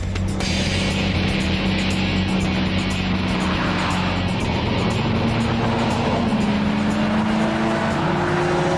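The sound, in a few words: Bugatti car driving on a racetrack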